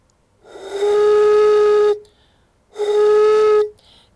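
Two hollow, breathy tones blown across a bottle mouth, each held about a second or more with a short gap between, steady and fairly loud.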